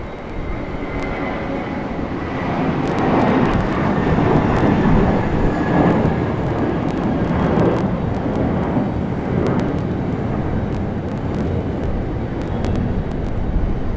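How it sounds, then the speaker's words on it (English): A United Airbus A319 airliner at Raleigh-Durham airport gives off a steady, loud broadband roar with a jet whine, swelling slightly midway and holding for the whole fourteen seconds with no talking. "we go to our United A319"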